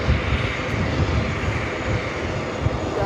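A Boeing 777-300ER airliner arriving at JFK airport from Madrid makes a loud, steady roar of jet engines with broad rumbling noise that holds constant, close and without other sounds.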